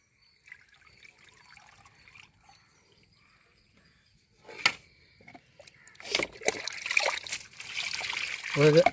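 Snails being rinsed clean in water, starting quiet with faint trickles and a sharp splash, then building into continuous running, splashing water toward the end.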